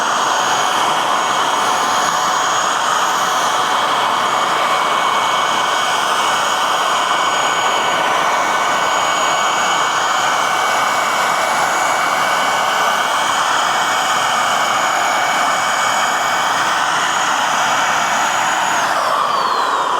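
An electric paint sprayer whines continuously and loudly at close range while spraying base coat onto a car hood, with a steady turbine-like tone that winds down at the end.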